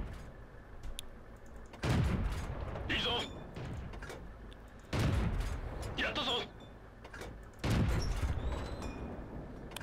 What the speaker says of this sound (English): look at all these guys up on the hill firing back at us.